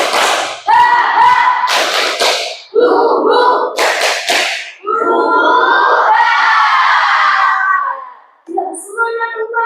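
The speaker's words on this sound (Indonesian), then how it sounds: "Oke, kita tepuk semangat dulu ya." A group performs a lively 'tepuk semangat' spirit chant, loud voices shouting in unison while bursts of rhythmic hand clapping punctuate the chant.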